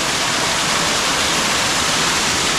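Water pouring from a pipe close to a waterfall, a loud, dense, steady rushing hiss that fills the whole moment without pause, and no voices.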